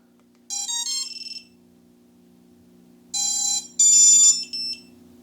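Smoke stopper on a DJI Vista digital FPV quad build emitting electronic beep tones, one short series, a pause, then another longer burst of beeps, clear and close over a faint steady hum.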